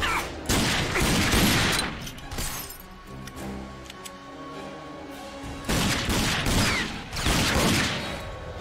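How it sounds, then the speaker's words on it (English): Bursts of rapid gunfire in the video game RAGE rattle loudly in two sustained volleys, separated by a quieter stretch of echoing shots and rumble. "The gun sounds are actually pretty good."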